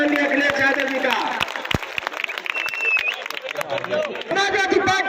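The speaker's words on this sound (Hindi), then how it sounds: "जोरदार ताली बजा के स्वागत करिए माननीय अखिलेश यादव जी का।" A large outdoor crowd at a Samajwadi Party rally for Akhilesh Yadav claps and cheers continuously, while a loud amplified voice speaks over the applause throughout.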